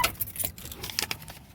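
Keys being pulled out of a Jeep, a close, bright metallic jangle with a few quick clinks over a short moment.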